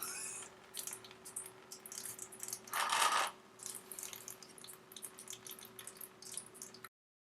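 Oil draining and dripping from the opened engine case of a KFX 400 ATV during right case removal, a steady faint trickle with soft drips, rising briefly into a louder splashing pour near the middle.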